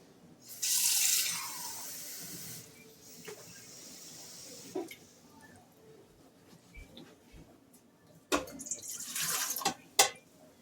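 A kitchen tap runs warm water into a measuring cup in two loud bursts, with quieter clinks and handling between them.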